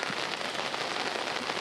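Rain pours down on a street in Vadodara's Raopura area, a dense, even hiss of drops striking surfaces close by, steady and loud with no voices.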